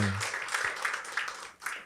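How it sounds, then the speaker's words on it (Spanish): Congregation applause during a Spanish-language evangelical church service, a dense, steady burst of many hands clapping close by that carries through the whole short moment, with a brief low voice at the very start. "Dele ofrenda de aplauso a Jesucristo"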